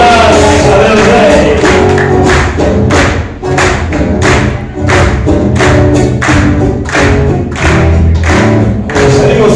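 Audience clapping in steady rhythmic time along to a tango milonga, loud sharp handclaps marking each beat over the band's music.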